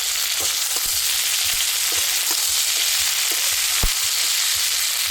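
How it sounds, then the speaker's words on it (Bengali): Kundru (ivy gourd) fries with ginger garlic paste in a pan, giving a steady, close sizzle with occasional soft scrapes and clicks of stirring throughout. "আদা রসুনের কাঁচা গন্ধ যাওয়া অবধি আমি কুঁদরিটা ভেজে নিচ্ছি।"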